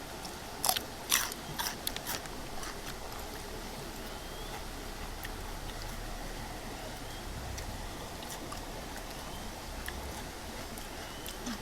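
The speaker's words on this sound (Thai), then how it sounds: "มันกรอบก็จริง แต่มันก็ต้องมีความที่เราต้องเคี้ยวนานๆ ให้ละเอียดอ่ะเนาะ" Raw octopus sashimi being chewed, with a cluster of crisp, crunchy bites early on, then steady close, quieter mastication over a constant background hiss.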